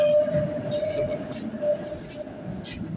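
A subway train at Toronto's Union Station rumbles in an underground station, with a steady low roar, a sustained high metallic whine and faint squeals from the wheels at moderate distance.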